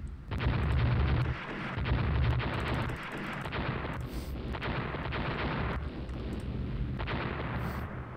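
Eight-inch land battery guns firing at long range in the naval strategy game Rule the Waves, heavy booming blasts under a continuous rumbling roar, with a few sharper high crackles breaking through.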